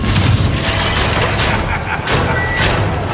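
Booming fireworks blasts at a party in a Sony E3 2018 game trailer, a loud continuous barrage of thuds and crackling bursts with broadband cracks recurring every half second or so.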